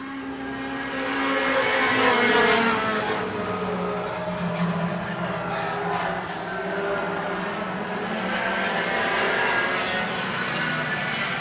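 Concrete Thunder race cars circle the track at Sweatt's, engines droning and rising as the pack passes, a steady layered roar that swells and fades with each car, mostly free of talk.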